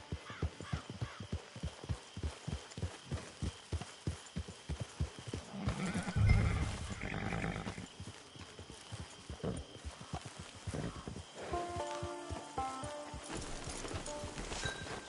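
A horse in a video game trots with steady, close clip-clop hoofbeats, then gives a loud whinny midway before the hooves carry on more softly under quiet background game sound.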